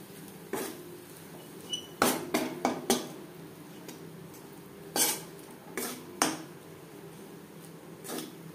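A mashed potato and spice mixture is stirred in a pan, with a handful of sharp metallic scrapes and knocks of a utensil against the pan at irregular intervals, close and fairly quiet, without speech.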